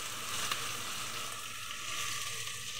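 Green chilies go into a hot frying pan while mashkalai dal is being cooked, giving a steady, close sizzle and frying hiss that holds evenly throughout with no voices.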